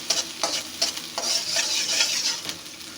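Chopped onions and green chillies frying lightly in a little oil in a pan, a steady sizzle broken by repeated scraping stirs of a spoon against the pan.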